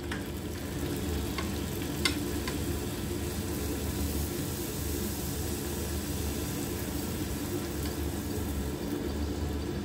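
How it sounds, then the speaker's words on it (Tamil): Puris deep-frying in hot oil at breakfast, a steady dense bubbling sizzle that runs unbroken throughout, with a couple of faint clicks near the start. "பூரி போட்டு எடுத்துடலாம்."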